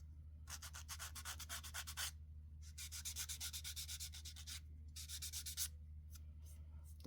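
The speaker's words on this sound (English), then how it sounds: "now we're just going to use a little bit of sanding, or to me a sanding sponge, and we're going to clean these edges up" A sanding sponge rubbed back and forth over the edges of a plastic tail light on a Pontiac Fiero, rapid rhythmic scratchy strokes in several bursts with short pauses between, close and fairly quiet.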